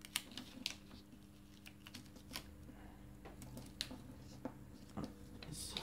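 Short pieces of adhesive tape are torn off during a paper craft, giving a string of faint, brief crackling bursts with quiet handling noises between them.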